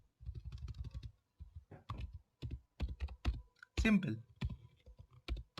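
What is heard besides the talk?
typing code on a computer keyboard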